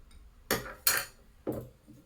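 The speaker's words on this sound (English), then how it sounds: "So I'm going to stir it up." Three brief clinks of a spoon against glass while stirring a mixture with water, close and fairly quiet, spaced irregularly over a couple of seconds.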